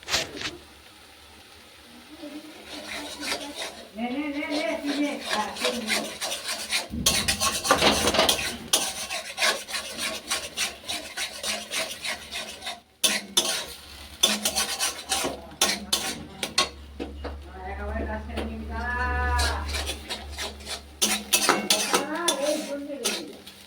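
Ridge gourd peel paste is stirred in a pan, with steady scraping and rasping of the utensil against the metal through most of the stretch while a voice talks over it.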